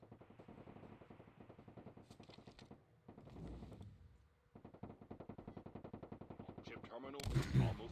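Rapid automatic gunfire from a COD Mobile tournament match rattles in long, rhythmic bursts with short gaps, ending in a louder, denser clatter of shots.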